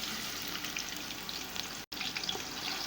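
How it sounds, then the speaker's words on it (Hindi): Thinly sliced onions fry in preheated oil over a medium flame, giving a steady, close, bright sizzle throughout with one brief dropout near the end and no talk. "और इसको कलर चेंज होने तक फ्राई करेंगे।"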